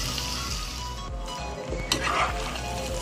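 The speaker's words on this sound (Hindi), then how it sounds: "और मैं इसमें स्पैगेटी डालने लगी।" Steady frying sizzle from a pan of chicken and vegetables as spaghetti goes in, with stirring scrapes and a brief clink of utensil against the pan, continuous and close.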